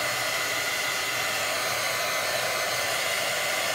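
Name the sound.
hair dryer drying gesso on artwork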